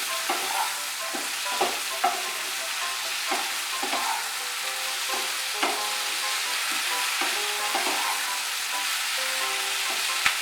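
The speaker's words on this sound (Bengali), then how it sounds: "এখন পেঁয়াজ কলিগুলো ভালো করে মিশিয়ে নেব।" Onion buds sizzle steadily in a hot pan while a spatula stirs and scrapes through them, with regular clacking strokes over the continuous frying hiss.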